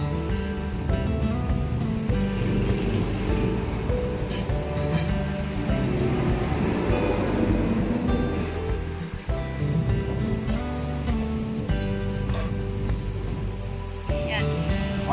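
Water pours steadily into a bucket for cleaning a 20-gallon aquarium tank, giving a continuous rushing gush that holds a fairly even level throughout.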